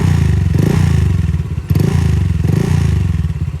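A Honda Click scooter with a stainless Kenochi exhaust pipe revving hard and close, a loud throbbing, rasping exhaust note with crackle that rises in two pulses and stays strong throughout.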